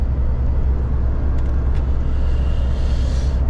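A car drives along a road, producing a loud, steady low rumble of engine and tyres that continues without a break.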